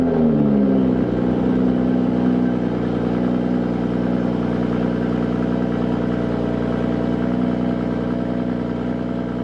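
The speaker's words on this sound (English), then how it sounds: "let's hear a quick cold start." A 2020 BMW M340i xDrive cold start: the engine catches with a loud rising flare in the first second or two, then settles into a steady, strong idle that runs alone without talk.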